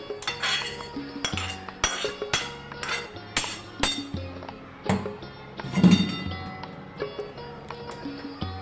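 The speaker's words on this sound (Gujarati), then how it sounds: "મેં આવી રીતના એક કાણાવાળું વાસણ લીધું છે તેમાં આપણે પાસ્તા લઈ લઈશું એટલે નીચેથી બધું પાણી નીતરી જાય" Cooked pasta is tipped into a perforated colander in a home kitchen, giving a run of sharp metallic clinks and knocks at an irregular pace, close and fairly loud, with no talking.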